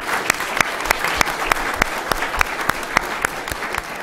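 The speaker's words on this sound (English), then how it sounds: "Let's give them a hand." An audience applauds after a panel program in Dallas, a steady wash of clapping with sharp, evenly spaced claps standing out near the front, filling the whole stretch without talk.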